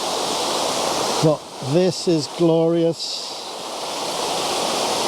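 A canyon waterfall with dirty brown water at the top gives a steady, broad rushing roar throughout, briefly overlaid by someone speaking a short exclamation in the middle.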